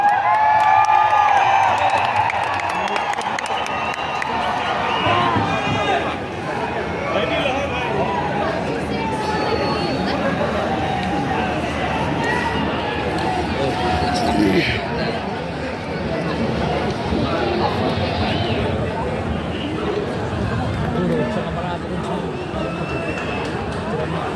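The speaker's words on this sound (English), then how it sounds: "Let's hear a loud roar for the Indian Super League for the first time in Shillong." Football crowd noise at an Indian Super League match in Shillong, Northeast United FC against Mumbai City FC: a busy stadium roar of chatter and cheering, loud and continuous, with an announcer's amplified voice carrying over it.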